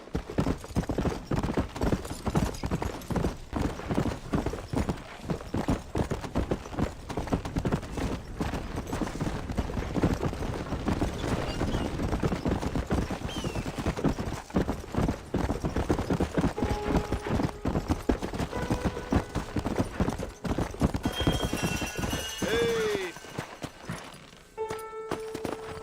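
A horse gallops in the video game Red Dead Redemption, its hooves pounding in a quick, steady, close rhythm from start to finish, with a few short game tones near the end.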